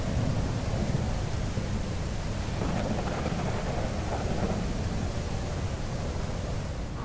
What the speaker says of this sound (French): Ça fait peur l'orage là.